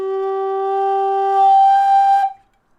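A D tin whistle holds a low G, then leaps up the octave with a slight breathy shift, played slowly as steady sustained tones before stopping cleanly.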